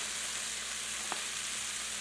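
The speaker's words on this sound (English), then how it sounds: "Now I'm just going to fry that up in a little bit of ghee" Meat frying in ghee gives a steady, even sizzle, close and continuous, with one brief soft clink partway through.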